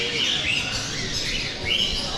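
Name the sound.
parrots and exotic birds chirping at a bird expo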